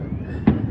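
One neighborhood firework bangs on July 4th in an urban Long Beach area, a single short muffled pop standing out from a steady background hum.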